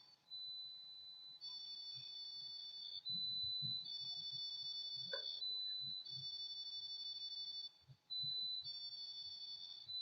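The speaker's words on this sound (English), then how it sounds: "I don't know why it started making that beeping and whistling sound" Faint electronic tones alternating between a high steady whistle and a pulsing beep pattern, repeating continuously, with soft low rumbling underneath.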